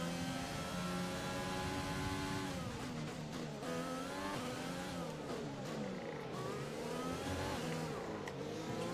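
An F1 2020 video game race car accelerates with its rear tyres spinning, a loud, continuous engine whine climbing and shifting in pitch over a steady rumble, with no talking.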